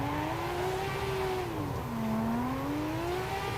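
An R32 Skyline drift car in the Assetto Corsa racing sim on a Fanatec wheel, its engine holding a steady high-rpm howl near redline, the pitch dipping briefly and climbing again, loud and continuous with no talk.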